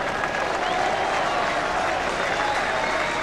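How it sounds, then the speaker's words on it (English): Steady crowd applause and cheering at a 1999 AFL match between Fremantle and Richmond, a broad continuous roar of clapping that holds level throughout, with faint commentary tones underneath. "And applause, I think, is for Adam Gilchrist."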